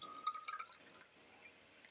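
Water is poured into a mixture in a classroom practical on separating a heterogeneous mixture, giving soft, quiet dripping and trickling with a few brief splashes near the start, then fading into low background.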